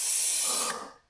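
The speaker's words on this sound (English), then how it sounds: "I'm using the wide sprayer on this to get a really good coat all the way across" Lubricant spray from a can fitted with a wide sprayer, aimed at garage door springs: one steady, close, loud hiss lasting under a second before it tapers off.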